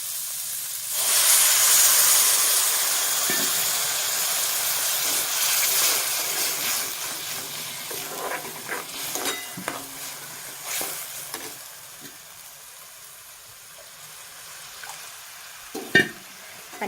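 Water added to hot Kolhapuri misal masala in a pan bursts into a loud, near sizzle, then settles into a long fading hiss with occasional scrapes and clinks of stirring.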